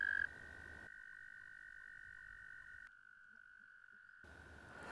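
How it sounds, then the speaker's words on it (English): A loud, steady, high-pitched trill from male toads, held unbroken throughout while background noise drops and returns; no voices. "They inflate their air sacs and produce a loud trill."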